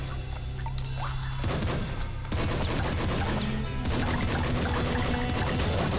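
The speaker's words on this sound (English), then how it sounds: "I gotta shoot him." Rapid gunfire in the video game Nuclear Throne, dense and continuous, with overlapping shots and crashes over a game music bed, loud and constant with no talk.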